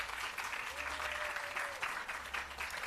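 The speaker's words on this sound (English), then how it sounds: "can I get a round of applause to the BSJ?" An audience at the Bureau of Standards Jamaica public relations campaign launch claps in a steady, even patter that sounds a little distant, with a faint sustained tone drifting through the middle.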